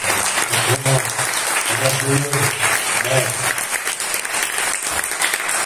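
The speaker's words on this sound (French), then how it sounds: "On peut l'applaudir, on peut l'applaudir." A congregation applauds a pastor, sustained loud clapping through the whole stretch, with a voice speaking over it in bursts during the first half.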